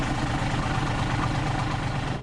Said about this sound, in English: the old Willys coughs, then roars to life